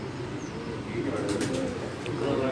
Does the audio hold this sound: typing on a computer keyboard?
no